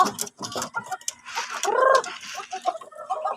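Several hens cluck and squawk nearby in busy, overlapping bursts, with one longer drawn-out call in the middle.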